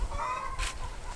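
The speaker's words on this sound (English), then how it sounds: "We left the chickens out last night" A chicken clucks briefly outdoors, a short throaty call rising once amid faint background noise.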